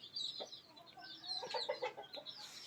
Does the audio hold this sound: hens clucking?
yes